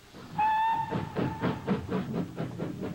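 A steam locomotive's whistle sounds loud and sustained, then the train chuffs away in a steady rhythmic puffing with hissing steam, part of a Brazilian 1989 election campaign ad.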